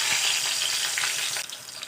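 Tempering spices sizzling in hot oil in a pan, a steady loud crackling fry with small pops throughout, easing slightly near the end.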